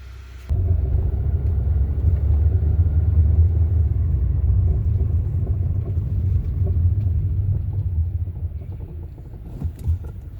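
A 2015 Kia Soul on a test drive, checked for a grinding brake-pad noise: after a brief quiet start, a steady low cabin rumble of the moving car continues throughout, with a few faint knocks near the end and no talk.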